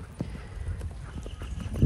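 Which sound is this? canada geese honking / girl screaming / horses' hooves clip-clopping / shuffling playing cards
horses' hooves clip-clopping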